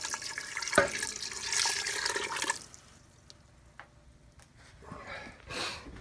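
Water is poured into a venison scrapple mixture in a splashing stream lasting a few seconds, then quieter trickles and a second shorter pour, with no voices.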